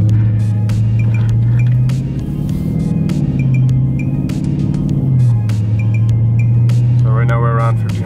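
A Dodge Charger Scat Pack engine holds at about 1500 RPM with a steady, deep idle rumble heard from inside the car, alongside a few light clinks.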